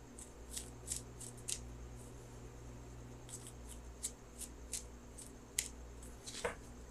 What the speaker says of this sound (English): So I'm going to shuffle for that outcome card.